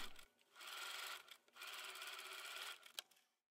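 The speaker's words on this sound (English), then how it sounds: "From the right side, make a stitch 1 to 2 mm from the edge that holds the skirt in place." A sewing machine stitches 1 to 2 mm from a seam edge on a blouse in two steady whirring runs, separated by a short pause, then stops with a soft click. The sound is close and quiet, with no talking.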